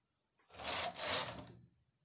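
A knitting machine carriage is pushed across the needle bed to knit a single stitch row on a sweater with a cable design, giving one brief, fairly soft scraping, sliding rasp in two surges, alone in silence.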